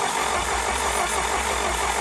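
A John Deere 1010 crawler engine cranks over steadily after long disuse, producing a continuous dense mechanical drone with a low rhythmic chug, loud and close, with no voices.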